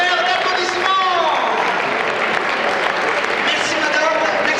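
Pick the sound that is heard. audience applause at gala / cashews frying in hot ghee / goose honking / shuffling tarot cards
audience applause at gala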